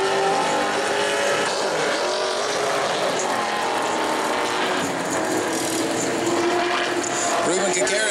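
Pro Late Model race car on a qualifying lap at New Smyrna Speedway, engine roaring loud and steady throughout with a commentator talking over it.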